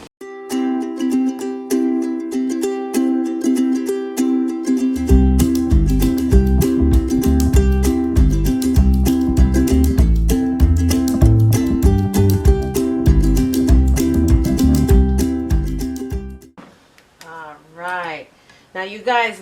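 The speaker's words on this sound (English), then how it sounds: "So now let's pop this onto our blender and blend it down." A NutriBullet full-size blender runs close and loud with a steady motor whine, then the pitch drops and the blades churn heavily as the smoothie blends, before cutting off and a person starts talking.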